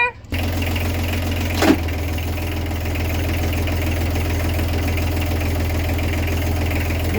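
A boat's inboard engine running in forward gear, a loud, steady low rumble with a knocking throb, heard close, after a brief pause at the start and a short thump shortly after.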